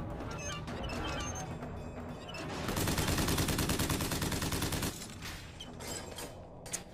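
Shotgun fire in BioShock Infinite: dense, loud bursts of gunfire, heaviest in the middle stretch, over a busy combat din with crashes and a final sharp impact.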